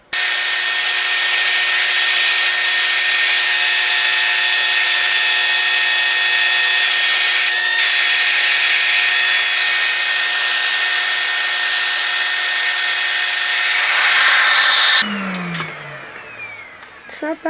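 Revair reverse-air hair dryer runs at setting 5 on medium heat, a loud, steady, close whine that holds unbroken for about fifteen seconds, then cuts off abruptly, leaving brief rustling and faint handling noise.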